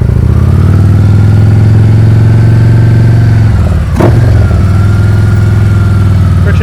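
A motorcycle engine runs during slow-speed clutch-control riding practice, a loud, close, steady low rumble that dips briefly once before settling back.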